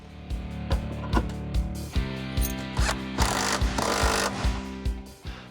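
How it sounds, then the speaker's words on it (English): A power drill bores eyelet holes through carpet in a Honda rally car, sounding as repeated short whirring bursts with sharp clicks between them, fairly close and steady, with no talking. "Now we can drill our holes and install our eyelets."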